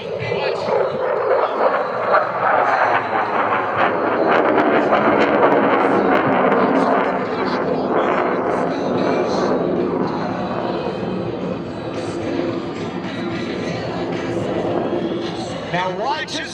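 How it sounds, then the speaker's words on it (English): An F/A-18F Super Hornet jet flies a vertical pirouette at an airshow, its engine roar sustained and loud with a sweeping, shifting tone, while a commentator talks over it. "That is the Super Hornet vertical pirouette"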